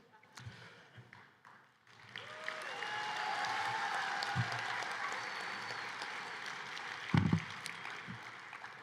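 An audience at an academic decathlon national final breaks into sustained applause, a broad clapping wash rising after a couple of seconds and holding steady, moderately distant, with some thumps near the end.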